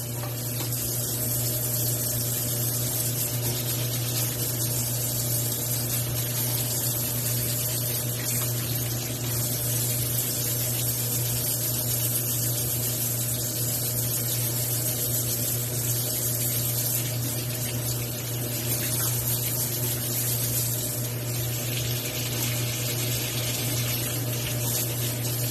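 A DeLonghi espresso brew unit being washed with dish soap under steady running water, a constant close spray from the tap with a low mechanical hum beneath it, no voices.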